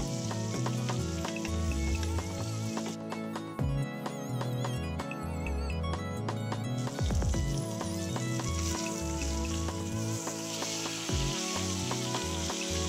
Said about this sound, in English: baste it lovingly over the top and sides of my steak